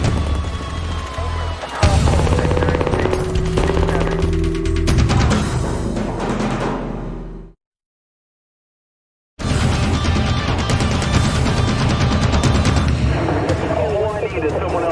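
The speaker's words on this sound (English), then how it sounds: "An armed standoff ends in a hail of gunfire" Loud, dense burst of gunfire from a police shootout during an armed standoff, sustained sharp reports with crashing impacts and agitated voices, cutting out to brief silence before the barrage resumes just as heavily.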